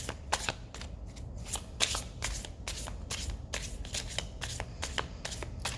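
Tarot cards are shuffled by hand in a quick, rhythmic series of riffling bursts, close and fairly quiet, with no talk.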